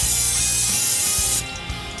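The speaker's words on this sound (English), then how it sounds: "now I'm going to spray this with this Great Value olive oil" Great Value olive oil being sprayed over Brussels sprouts for an air fryer: a loud, close, continuous hiss of spray lasting over a second, then stopping and leaving faint handling noises.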